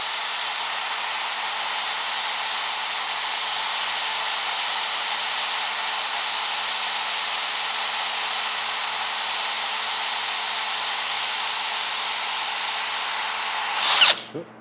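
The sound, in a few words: power drill running in a metal shop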